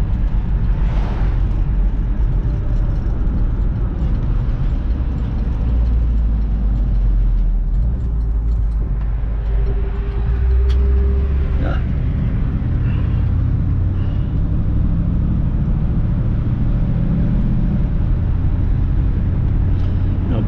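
A 1955 Pontiac Star Chief cruising on the road at around 60 mph, with a steady, loud low engine drone and road rumble filling the whole stretch, a few brief clunks partway through.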